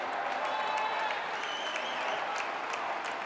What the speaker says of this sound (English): He gets a standing ovation from the Wheaton crowd.